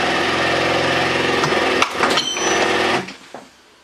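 A tungsten carbide cutting insert for machining steel is crushed in a hydraulic press. A loud, steady mechanical hum is broken by sharp cracking and crunching bursts near the end, then the sound fades away.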